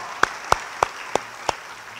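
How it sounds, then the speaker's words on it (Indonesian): Five sharp, evenly spaced claps ring out one at a time over a faint background hum during a church sermon, with a slow, steady rhythm rather than a crowd's continuous applause. "Beri tepuk tangan yang baik bagi dia."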